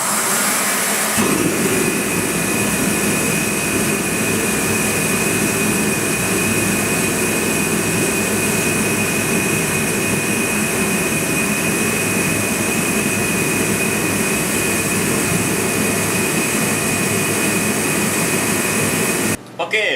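A fuel-burning shop space heater roars continuously in a workshop, a loud, steady blowing rumble with a low engine-like drone that fills the space without a break.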